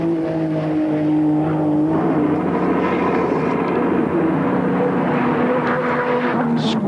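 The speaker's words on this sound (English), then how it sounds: "You can really hear the way the car puts its power to the road." A Nissan R32 GT-R Group A touring car races at Bathurst, its engine note rising and screaming as it accelerates hard, loud and continuous, with the pitch climbing through the gears.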